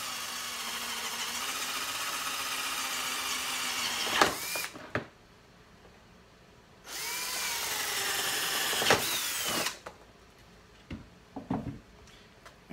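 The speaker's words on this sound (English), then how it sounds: "And I'm going to just drill holes into it." A power drill whirs in two sustained bursts of about four seconds each as it drills holes into a plastic bin, with a quiet gap between them and a few small clatters at the end.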